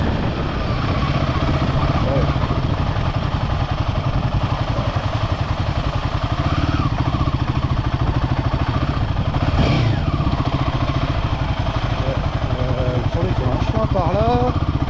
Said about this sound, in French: Je sais que le moteur cogne un peu, mais je suis vraiment sous régime